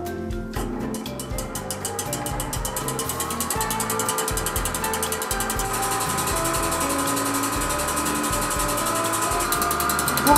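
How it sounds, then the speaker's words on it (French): An electric mixer whips egg whites for meringue with a steady, loud mechanical whirring and rhythmic clacking that continues without pause, close by and alone. "Donc nous les mettons dans le batteur électrique."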